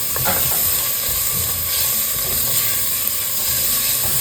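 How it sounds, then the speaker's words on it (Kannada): Ginger garlic paste fries in a pan for a mutton curry, giving a dense, steady sizzle that hisses continuously up close, with faint stirring underneath. "ಇದನ್ನು ಚೆನ್ನಾಗಿ ಫ್ರೈ ಮಾಡ್ಕೋಬೇಕು."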